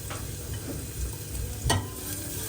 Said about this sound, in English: add a couple of squeezes of fry light and then 2 garlic cloves. Fry that off for around 30 seconds.